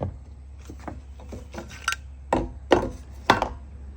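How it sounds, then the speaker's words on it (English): Flathead chisel prying a retaining ring off a DEF head on a 2017 Tiffin Phaeton's Freightliner chassis: scattered light metallic taps and scrapes, then three sharper, louder clanks near the end, close by over a steady low hum. "I had used a flathead chisel here to move that around. We'll get that thing off of there."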